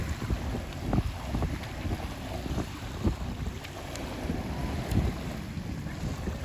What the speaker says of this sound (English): I'm at the ocean again